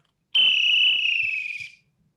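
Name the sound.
referee whistle blown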